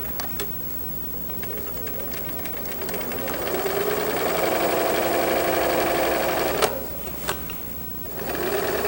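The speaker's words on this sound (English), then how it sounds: "I'm stitching from the top down" A home sewing machine stitching in a zipper from the top down, running in a steady rapid whirring rhythm that rises mid-way, then stops with a few clicks before starting again, close and clear.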